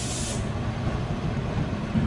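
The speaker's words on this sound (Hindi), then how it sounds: "और गोल्डन टेंपल का लोकोमोटिव देख लीजिए" Locomotive of the Golden Temple Mail, which runs between Amritsar and Mumbai, at Ghaziabad Junction station: a steady, loud rumble and hiss of the train, with a brief brighter hiss at the start.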